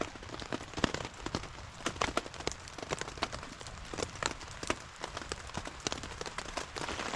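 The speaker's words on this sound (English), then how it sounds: "That's hail." Hail mixed with rain pelting down near Chilnualna Falls in Wawona, Yosemite, a dense, continuous patter of sharp ticks and cracks over a steady hiss, with louder close strikes scattered irregularly throughout and no voices.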